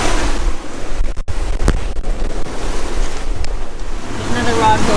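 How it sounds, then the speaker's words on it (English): Big ocean waves and gusting wind buffet a Ranger Tug trolling on a passage from Great Harbour to the Berry Islands in the Bahamas, a steady loud wash of surf and wind noise throughout with brief dips. "we're kind of quartering into these big waves"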